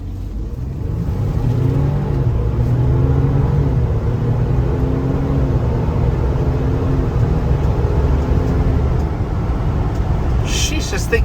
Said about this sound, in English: You hear a lot of turbo whoosh from the exhaust coming through the soft top.